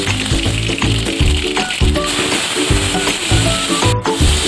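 Tomatoes added to a pan of hot oil with dried red chili and mixed white and black mustard seeds, frying with a steady loud sizzle and crackle throughout, no voices.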